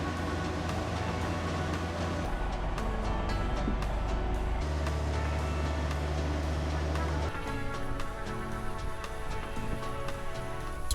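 Land Rover Defender camper driving on South African roads toward the Sani Pass, with a loud, steady engine drone and road rumble that shifts pitch at gear changes, continuous throughout.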